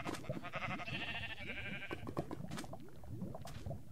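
Sheep in the video game Minecraft bleat in a few wavering, nasal calls, fairly close and clear, with short gaps between them and no talking over them.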